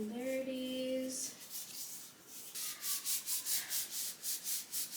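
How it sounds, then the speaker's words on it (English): A sketchbook is pressed and rubbed over fresh artwork, giving close, soft rhythmic rubbing strokes, about a dozen quick back-and-forth passes in the second half after a brief faint tonal sound at the start. "I'm going to bring my sketchbook, do this, and gently just press down, fixing any irregularities."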